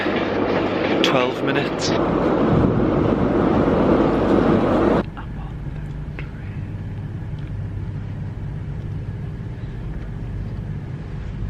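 A train station on a mainline route is heard: a loud rumble of a train with clattering for about five seconds, then the quieter hum of the station, with a voice speaking briefly.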